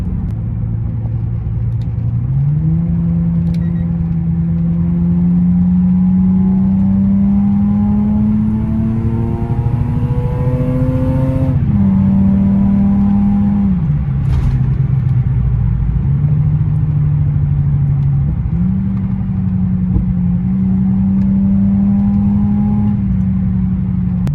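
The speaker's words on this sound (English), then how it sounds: "I can definitely hear a little bit more intake noise" A Lexus GS300 engine with an AEM aftermarket intake idles and revs repeatedly, pitch rising and falling in steady swells with a throaty intake roar, close and loud, no talking.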